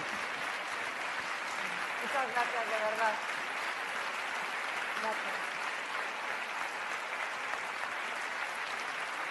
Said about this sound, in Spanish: el tiempo de aplauso se descuenta